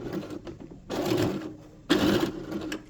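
A sewing machine stitches a small pet dress in two short bursts of whirring and clattering, close and fairly quiet, separated by a brief pause, with no talking.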